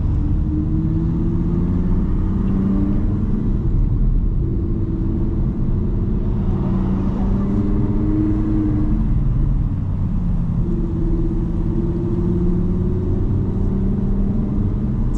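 A supercar engine rumbles loudly and steadily while driving on the road, a continuous deep roar with gentle rises and falls in pitch as the throttle changes, heard from close inside the car.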